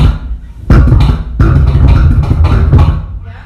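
Bass guitar played in quick quintuplet groupings, five notes to a beat, with dense percussive plucked attacks in a rapid, even rhythm, close and loud, no talking.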